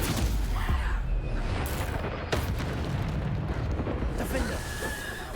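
Bombarda spell blasts in Hogwarts Legacy, a steady roar of booming explosions and debris rumble running through the whole stretch, loud and dense, with game combat noise and a voice shouting over it.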